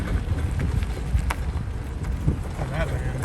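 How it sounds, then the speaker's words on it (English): Strong wind buffets the microphone outdoors at Quartzsite, Arizona among parked RVs and vans, a continuous rough low rumble with gusty surges, while a person speaks over it. "It is pretty windy."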